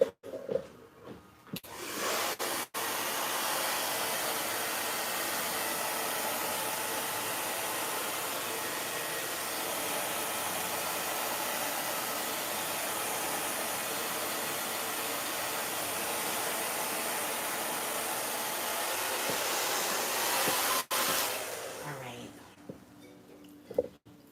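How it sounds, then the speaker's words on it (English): A blow dryer whirs steadily for about twenty seconds, a loud, even rushing hiss that switches on after a couple of clicks and cuts off near the end. "let me just plug in the blow dryer"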